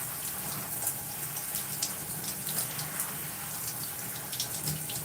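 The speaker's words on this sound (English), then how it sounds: "So I'm rinsing conditioner out" Running water rinsing conditioner out of natural hair left in twists, a continuous soft splashing hiss with small irregular spatters, steady and fairly close without speech.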